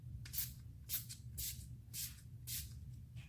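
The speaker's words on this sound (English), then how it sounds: "the first thing I'm going to start off with is, of course, a priming spray." Five quick hissing spritzes of an Urban Decay makeup priming spray bottle, evenly spaced about half a second apart, close and fairly soft.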